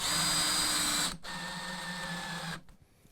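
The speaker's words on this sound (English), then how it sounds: "But we'll use a drill here." Drill driving a 2.5 inch GRK trim head screw into a board, a loud steady whir for about a second, then a brief pause and a lower continuous whine before the motor stops.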